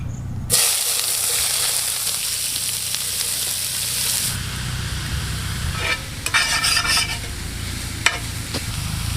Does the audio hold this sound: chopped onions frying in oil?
yes